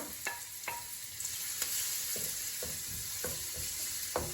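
Ten to fifteen chopped red shallots fry in hot oil for onion rice, a steady soft sizzle broken by regular clinks and scrapes of a spoon stirring against the pan, no talk.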